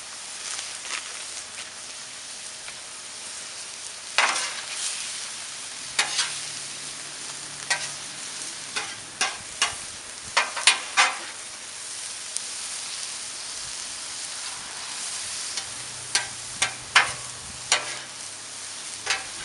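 Noodles stir-frying on a Blackstone griddle, a constant soft sizzle broken by sharp scraping and tapping strokes of a spatula at an irregular pace.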